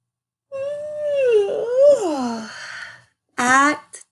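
Children's voices imitate a dog, one long wavering howl-like whine rising and falling for about two seconds, then a short yelping bark-like burst and a couple of brief yips, loud and close in a classroom activity.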